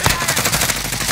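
Rapid automatic gunfire in Warzone, a loud continuous burst of closely spaced shots in a battle royale match.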